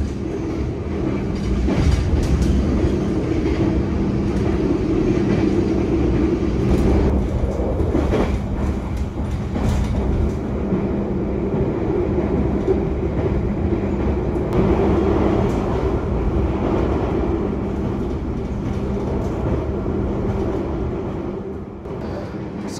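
The Argo Bromo Anggrek train runs at speed from Surabaya toward Jakarta, heard from on board as a loud, continuous rumble. Wheels clack rhythmically on the rails, with a steady hum underneath.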